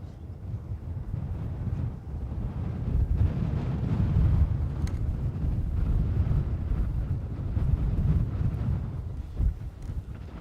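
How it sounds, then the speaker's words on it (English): Strong gusty wind buffeting a microphone outdoors at an airport, a continuous deep low rumble swelling and easing throughout, loud and close with no voices. "Breeze very strong now."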